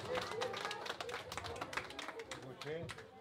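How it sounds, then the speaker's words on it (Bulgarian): Guests at a 70th birthday celebration clap steadily and quietly in a crowded room, with talking and crowd chatter mixed throughout. "Аплодисменти."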